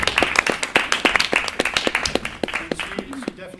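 A round of applause at a senior music recital honoring an outstanding student, a small audience clapping in distinct sharp claps at a lively rhythm, thinning toward the end as a voice begins.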